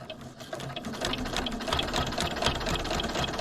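A sewing machine runs steadily at close range, stitching appliqué fabric from a kit with a continuous fast whirring hum that holds throughout without pause.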